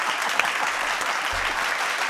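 An audience at a podcast recording breaks into loud, steady applause, a dense wash of clapping that runs without letup throughout.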